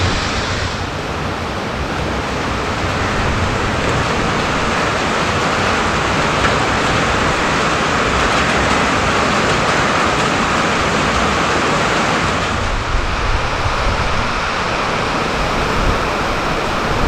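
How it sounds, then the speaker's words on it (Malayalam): Heavy rain pours down at a beach in Varkala, making a loud, dense, continuous rushing hiss with no breaks over the whole stretch, blended with surf-like roar and no voices. "കാണിച്ചു തരാട്ടാ, പൊരിഞ്ഞ മഴ ഇവിടെ."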